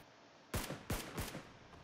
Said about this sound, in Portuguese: O barulho do tiro da SK parece uma pipoca, velho.